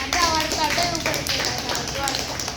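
People clap together at a fitness session after a 20-minute partner plank hold, a dense run of hand claps mixed with voices talking over it.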